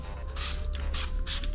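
White King foaming mold and soap scum remover is sprayed from a trigger bottle in three short, close hissing bursts, spaced roughly evenly, with no talking.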